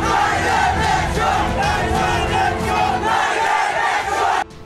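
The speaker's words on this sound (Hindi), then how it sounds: "कट्टरपंथियों ने हिंदुओं पर हमला करने के लिए भड़काऊ नारे लगाए।" An agitated crowd shouts slogans in unison, a dense roar of many voices chanting continuously and loudly before cutting off abruptly at the end.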